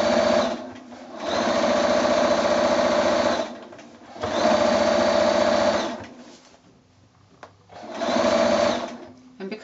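A sewing machine stitches across the casing of a drawstring bag in three long, steady bursts separated by short pauses. It hums and chatters loudly and close.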